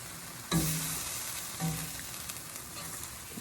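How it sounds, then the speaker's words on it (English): Ground beef in sauce with green onion sizzles steadily in a frying pan, with two louder bursts of frying as it is stirred and coated, close and alone without talk. "Get everything coated and cooking together."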